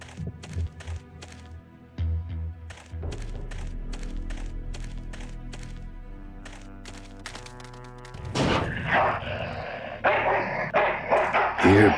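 A dog in the video game Full Throttle Remastered barks in a quick series of sharp, close yaps, followed by a low droning tone and then a noisier burst of louder barking and growling.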